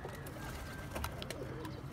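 A pigeon gives soft, low coos, faint and steady against a quiet background, with no speech.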